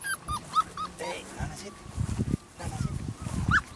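Puppies and big dogs whimper and yip in short, high, excited bursts outdoors, interleaved with lower barks and a voice talking nearby.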